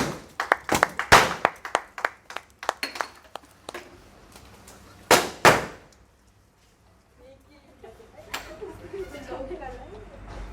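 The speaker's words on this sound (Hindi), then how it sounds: "जोरदार तालियों से स्वागत करिए।" A small crowd gives scattered, uneven applause at a dealership unveiling of the Mahindra Bolero BS6 and Bolero PickUp BS6. Bursts of clapping come in two waves, then fall quiet.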